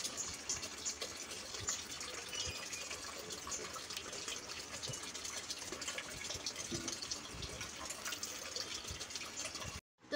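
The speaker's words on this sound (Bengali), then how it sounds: "এই যে বাবু জল পড়া দেখছে টপ টপ করে" Household water falling steadily in a continuous, even splashing stream, close and moderately quiet, with no talking and a sudden stop just before the end.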